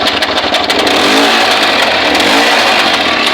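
A PD10 carbureted starter engine running on propane, a loud, steady mechanical drone with constant engine noise throughout and no speech.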